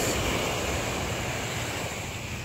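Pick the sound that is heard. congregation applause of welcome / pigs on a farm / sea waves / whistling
sea waves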